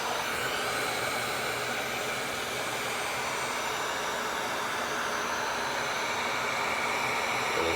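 Wagner heat gun blowing hot air as a steady, close, breathy rush of noise with an even hum underneath, continuous and unbroken, with no voices.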